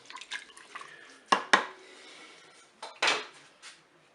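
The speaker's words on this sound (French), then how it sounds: "Voilà, je mélange un petit peu" Peeled tomatoes are stirred in a Cookeo multicooker pot, with a few sharp utensil knocks against the pot and soft wet scraping between them, close and fairly quiet, without talk.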